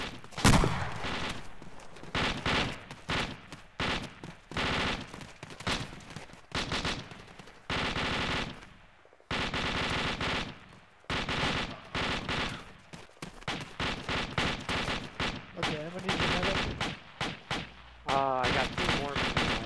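Rapid bursts of machine-gun and rifle fire in a video game battle, loud and close, in repeated volleys with short gaps, while someone talks over some stretches.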